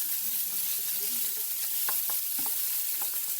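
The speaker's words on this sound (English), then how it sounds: "Go ahead and get that shrimp going." Large shrimp sautéing in a hot pan, a steady soft sizzle with a few clinks of a spoon stirring against the pan, fairly quiet and close.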